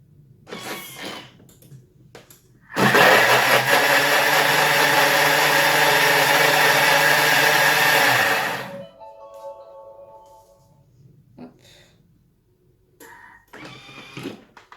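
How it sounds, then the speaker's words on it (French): Thermomix blending harira ingredients with coriander, a loud, steady whirring burst lasting about six seconds that stops abruptly, followed by quiet kitchen clatter with no talk. "Et je vais venir mixer pendant 5 secondes"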